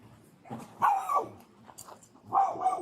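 A dog barks sharply a few times during a police arrest, two or three close, loud barks with a short gap between them and no speech over them.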